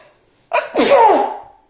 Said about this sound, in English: Ooh, this makes me want to sneeze.